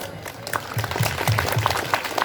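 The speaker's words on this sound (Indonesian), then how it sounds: "sekali lagi aplaus" A high school audience at SMA Negeri 13 Semarang breaks into applause, a moderate wash of clapping rising and continuing over about two seconds with some voices mixed in.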